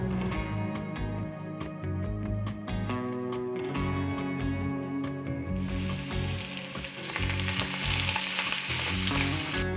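Vegetables frying in a pan for a soya pulao, with sharp rhythmic clinks of a spoon stirring against the pan over a bed of sizzling, and the sizzle growing louder and hissier midway.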